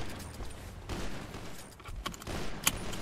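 Gunfire in a GTA V firefight, including an MP submachine gun, comes as scattered bursts and single shots. They sound mid-distance and crackly, with one sharp louder report near the end over steady game noise.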